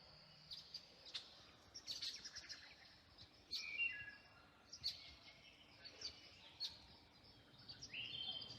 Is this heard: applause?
no